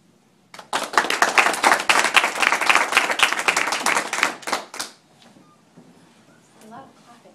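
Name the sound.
audience clapping after poetry reading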